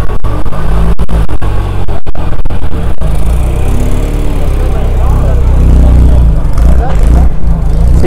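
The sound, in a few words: old vintage cars arriving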